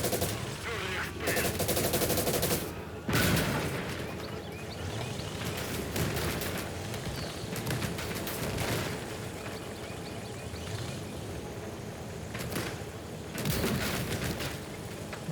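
Battle gunfire in the World War II strategy game Call to Arms: Gates of Hell, with repeated machine-gun bursts, single shots and heavy booms over constant combat din, loud and dense.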